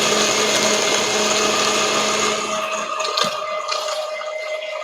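Blender crushing ice for a frappé-style daiquiri, a loud continuous whirring grind that holds steady for several seconds, with slight rattles of ice near the end and no talking.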